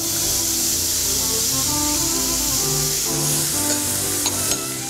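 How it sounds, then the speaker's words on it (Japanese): Close sizzling and frying, with a stirring utensil scraping and clinking as mixed ground meat and onion cook in a pot for dry curry, steady throughout with no talking. "材料を全部鍋に入れて炒めながら煮詰めていくだけです。"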